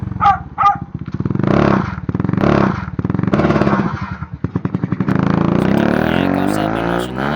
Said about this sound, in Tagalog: gipaandar gipaandar nila ang motor diri na part